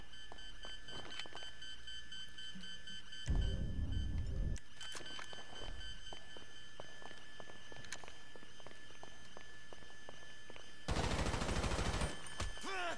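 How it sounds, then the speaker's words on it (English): Gunfire in Grand Theft Auto 5 gameplay: two loud bursts of rapid automatic shots, one short and one longer, stand out over a quieter background of footsteps and game ambience. "that sound of the gun sounded so cool"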